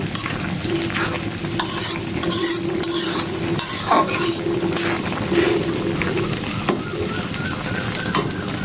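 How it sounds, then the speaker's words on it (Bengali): A spoon stirs lentil dal with ground coriander and cumin in a cooking pot, giving repeated scraping strokes against the metal and soft sizzling and bubbling from the hot pot throughout. "এখন আমি একটু নেড়ে ছেড়ে দিচ্ছি।"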